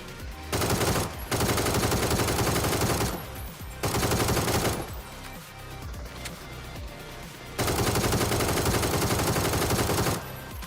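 Bursts of rapid automatic fire from the ACE rifle in PUBG, loud and close, in long sustained volleys separated by short pauses, with quieter rattling in between.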